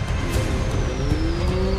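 Engine noise from a truck approaching in the driving game My Summer Car, a steady motor drone with rising tonal whine, continuous and fairly loud throughout with road rumble underneath.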